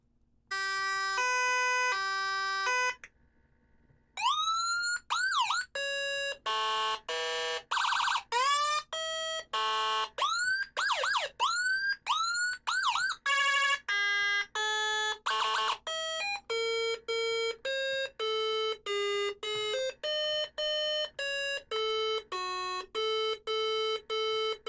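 A Whelen Euro siren used as a secondary warning device cycles through loud, close electronic warning tones: rapid chirps, rising whoops and steady two-tone beeps in a dense repeating sequence.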